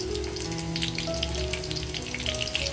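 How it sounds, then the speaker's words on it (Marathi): Garlic crackles in hot oil, a close, busy spattering sizzle with fine popping bursts over a steady hiss, no speech. "तेल छान तापल्यानंतर लसूण टाकायचे"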